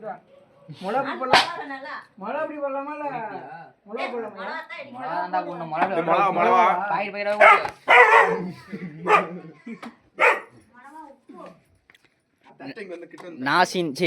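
A dog barks repeatedly in short bursts close by, mixed with people talking over and between the barks.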